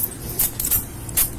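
Car keys jangle in a few short metallic bursts during a police arrest scene, the clinks close and fairly bright against a low, steady background rumble.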